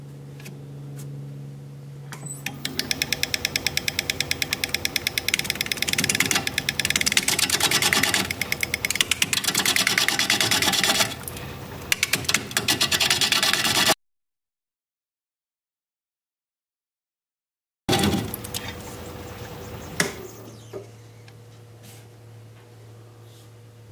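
A wood lathe spinning an out-of-balance wooden bowl at about 550 RPM, a steady mechanical whir with a rhythmic ticking wobble, running for several seconds, cutting out and then winding down.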